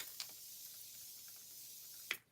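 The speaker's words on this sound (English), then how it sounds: "we're going in with Art Naturals Mineral Water Cooling Spray" Art Naturals Mineral Water Cooling Spray gives two short, faint airy hisses, one near the start and one near the end, separated by quiet room tone.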